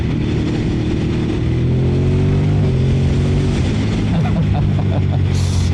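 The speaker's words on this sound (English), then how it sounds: "The aftermarket exhaust sounds absolutely fantastic." A Ducati Monster 950 Plus motorcycle with an aftermarket exhaust revs loudly and close, its throaty exhaust rising in pitch and dropping back, continuous throughout.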